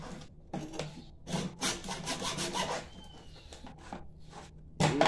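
Hand saw grinding through a frozen pintado fish head, the teeth biting hard into bone in a series of rough, uneven strokes, close and fairly loud, with short pauses between bursts.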